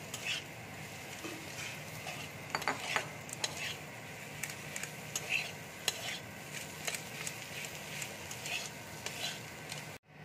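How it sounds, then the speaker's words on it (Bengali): Grated potato being stirred into a fried spice masala in a pan, a soft low sizzle with scattered utensil scrapes and clicks throughout, fairly faint and without talk. "দেখো মশলাটা ভাজা হয়ে গেছে। আলুটা আমি গ্রেট করে রেখেছিলাম, আলুটা দিয়ে দিচ্ছি।"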